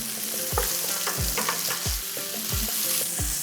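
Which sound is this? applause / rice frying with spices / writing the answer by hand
rice frying with spices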